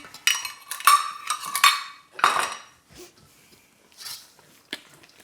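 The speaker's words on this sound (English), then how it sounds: "Give it another mix" A spoon scrapes and clinks against a bowl as high-protein oatmeal is mixed, coming in short bursts with pauses between them. Nobody speaks.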